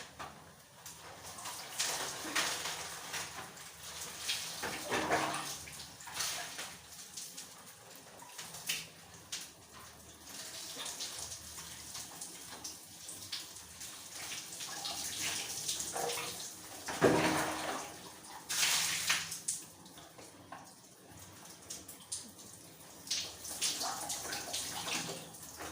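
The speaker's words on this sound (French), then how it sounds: "Et là, je rince." Water from a shower rinsing hair, a soft steady spray and patter with uneven splashes as it runs through the hair, fairly faint and continuous throughout.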